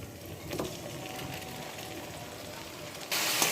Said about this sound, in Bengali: মাংস মশলার সাথে 2 মিনিট কষিয়ে নেব।